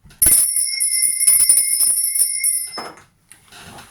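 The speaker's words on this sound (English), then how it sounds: "I'm going to be ringing this bell just to cleanse the air around us" A small bell rung at close range in a spiritual cleansing setting, with bright sustained ringing tones and a few quick strikes that decay, followed by faint rustling.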